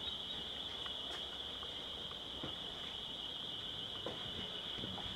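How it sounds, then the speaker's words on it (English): A wireless home security alarm sounds a steady, continuous high electronic tone indoors, faint, with soft background noises and no talk. "It's turned the alarm on."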